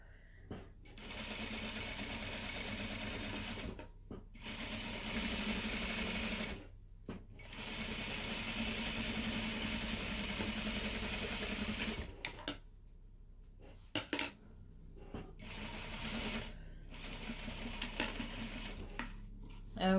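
Sewing machine back-stitching the card slot piece of a leather card wallet, running in long continuous bursts separated by short pauses and stops.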